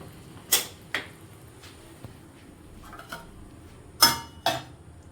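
Plates and dishes clinking while rice is served, a handful of sharp ceramic knocks and clatters spaced out in a quiet room, two louder ones near the end.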